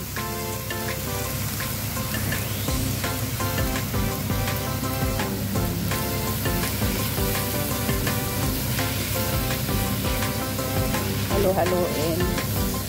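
Cabbage sizzles steadily in a hot frying pan, a dense crackling hiss that carries on evenly and close, with faint stirring and occasional spatter but no talking.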